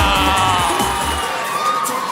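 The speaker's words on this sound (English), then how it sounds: "Can I have a yell or a yay for my man on the right?" Crowd at a Samoan siva dance academy showcase in West Brisbane yelling and cheering for a performer, a steady dense roar of voices with whoops and children's shouts throughout.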